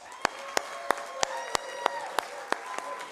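Audience applause at a family medicine graduation ceremony, with crisp, evenly spaced claps standing out in a steady rhythm over a continuous bed of crowd clapping.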